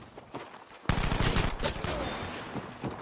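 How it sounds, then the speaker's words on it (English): A Lewis gun in Battlefield V opens up after a quiet moment with a sharp burst of rapid automatic fire that continues in dense, loud volleys. "we are going to be seeing a Lewis gun action"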